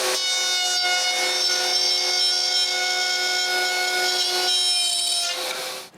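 Wood is sawn to cut dovetail tails for a bookcase. The saw gives a steady, ringing tone with a continuous rasping cut, close and unbroken for several seconds before stopping.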